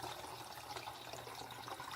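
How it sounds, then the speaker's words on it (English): Boiled water that has stood overnight is poured into a neem oil pump sprayer, a steady close splashing, gushing fill that runs evenly for the whole stretch with no talking. "I boiled some water and left it set all night, so we're going to pour that in there."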